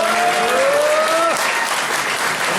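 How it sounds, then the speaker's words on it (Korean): A conference audience at the Korea Press Center gives a sustained round of applause, a dense, steady wash of many hands clapping at fairly close range. "격려와 응원의 박수"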